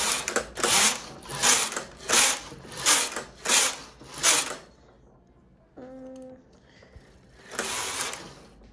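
A knitting machine knits rows as the carriage is pushed back and forth in steady, loud mechanical swooshes with a ratcheting rattle, about six passes, then a pause with light clicks and a faint tone before one more pass.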